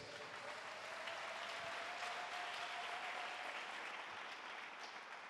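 A church congregation applauding during a sermon, a steady wash of many hands clapping together that holds evenly for about five seconds, fairly distant and moderately quiet.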